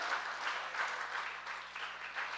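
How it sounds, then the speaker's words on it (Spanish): A church congregation applauds God, a soft, steady clapping heard from some distance over a low hum. "dale un fuerte aplauso a Dios y gózate."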